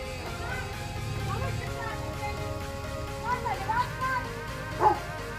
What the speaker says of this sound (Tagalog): Ang laki ng aso niya.